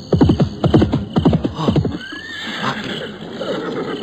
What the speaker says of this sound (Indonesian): Ada pasukan berkuda datang kemari.